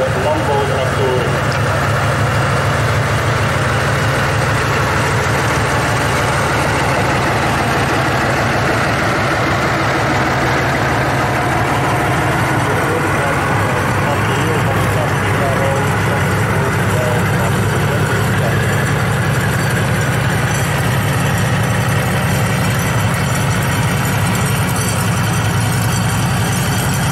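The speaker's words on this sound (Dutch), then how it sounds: "De makelij van deze high-speed tractor is Alice Chalmers, onbekend van de landbouwtractoren." An Allis-Chalmers high-speed tractor engine idles steadily with a deep, continuous rumble at a World War II tank event in Oeselgem, Belgium, with outdoor background noise and people talking under it.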